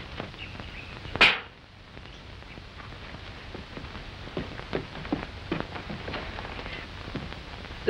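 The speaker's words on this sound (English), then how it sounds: "Looks like rain." Rain falls steadily in a 1943 comedy short, a soft continuous patter with scattered drops, opened by one sharp cracking snap before the shower settles into an even hiss.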